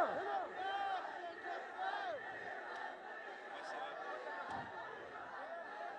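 Political rally crowd in Balochistan chanting slogans, a dense roar of many voices rising and falling in bursts, with overlapping shouts and chatter throughout.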